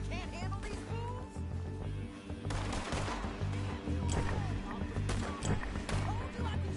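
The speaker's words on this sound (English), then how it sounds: "Told you I could shoot a gun" Repeated gunshots crack out in Red Dead Redemption 2 during an outdoor gunfight, with sharp irregular reports close and far over several seconds. Horse movement, game ambience and talking voices sit around the shots.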